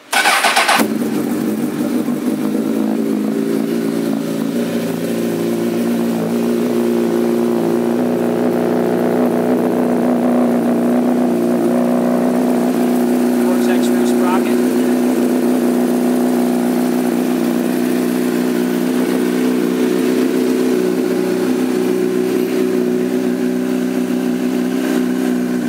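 A 2006 Honda CBR1000RR fires up with a sharp start, then settles into a loud, steady, close idle that holds evenly for the rest of the stretch with no talking.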